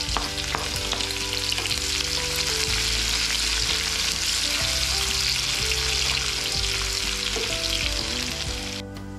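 Chopped onion frying in a pan for Maharashtrian pitla, turning reddish: a loud, dense, continuous sizzle with a low steady hum underneath, running unbroken and close throughout.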